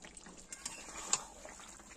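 Water poured into masala chicken frying in a pan produces quiet liquid splashing with faint sizzling and a few small drips and pops.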